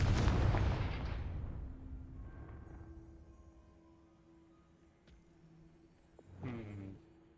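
A Confringo blasting spell explodes in the game Hogwarts Legacy: a loud boom bursts at the start and decays over about two seconds, followed by quieter humming effects and a second, smaller burst near the end.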